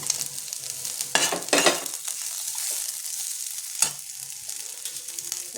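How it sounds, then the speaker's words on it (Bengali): Green chillies and browned onion fry in oil for a Bengali katla fish preparation, a steady close sizzle with a couple of bursts of louder crackling and spatula scrapes as they go in. "এবার আমি কাঁচা লঙ্কাটা দিয়ে দেবো"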